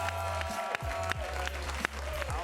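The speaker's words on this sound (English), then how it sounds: "give them a warm round of applause" Audience applause at a live improv comedy show as actors return to the stage, a crowd clapping under a loud, continuous music bed with sharp thumps.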